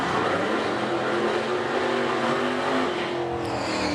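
Drag racing car launching down the track at an Edmonton, Alberta drag strip, a loud continuous engine roar with tire noise filling the whole stretch, steady and close.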